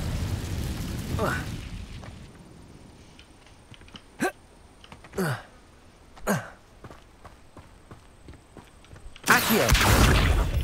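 Incendio fire spell cast repeatedly in Hogwarts Legacy, heard as a few sharp whooshing bursts with a louder blast at the end, standing out against quiet game ambience.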